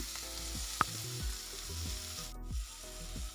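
Green chillies fry in a little oil in a pan for a chilli fry, giving a steady close sizzle with soft scraping and a sharp click near the start, and no voices.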